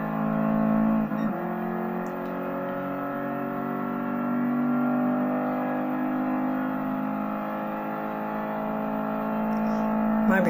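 A LaFerrari engine in a racing video game holds a steady, loud droning rev with sustained harmonic tones, swelling slightly midway, a brief transient near the start and another at the end.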